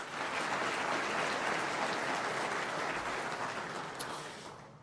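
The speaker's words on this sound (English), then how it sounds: "So round of applause, please." A crowd claps at a live political party leadership debate in a large expo centre hall. The applause is dense and continuous but fairly distant, and it thins out toward the end.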